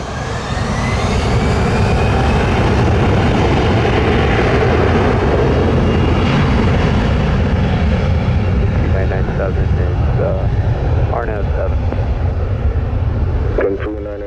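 An American Airlines jet roars down runway 07 at Montego Bay on its takeoff run, loud broadband engine thunder holding strong throughout and easing slightly near the end, with faint radio chatter underneath.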